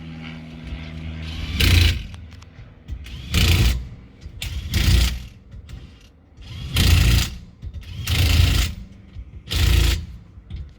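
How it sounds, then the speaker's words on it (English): The electric park brake motors on a 2016-or-later Volvo XC60 whir in six short, even bursts separated by brief pauses, close and moderately loud, with no talking. "And you can hear the motors winding back"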